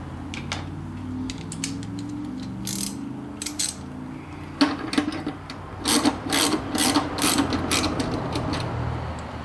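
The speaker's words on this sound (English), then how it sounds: "We'll just unbolt that and put this back on here" A ratchet clicks in rapid, close bursts while unbolting a 13 mm bolt on a Hobart Handler 140 MIG welder, growing busier and louder in the second half, with no talking.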